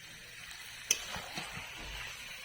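Marinated chicken pieces dropped into hot spiced oil in a pan, a faint steady sizzle with a sharp clatter near the start and a few soft stirring scrapes afterward.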